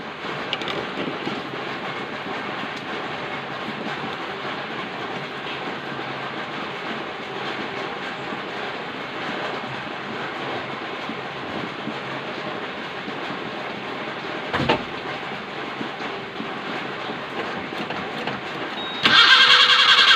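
A Suzuki Gypsy with an F10A engine, fresh distributor and spark plug wires, runs with a steady, rough mechanical drone for a long stretch, then a louder surge near the end, close up with no talking.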